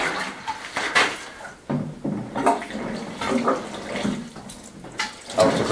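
Water poured from a container into a bucket while mixing lime wash during an old kitchen renovation, splashing in several uneven bursts close by, with clunks and knocks between pours.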